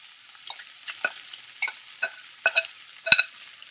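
Lemon rice is stirred in a pan, with a spoon scraping and tossing the grains in a series of light, irregular strokes and soft sizzling clicks, close by and alone.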